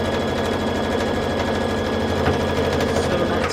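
A sewing machine hums steadily and close, stitching cotton quilt pieces together for a scrappy square-on-point quilt block, with a fast, continuous mechanical rhythm and no talking.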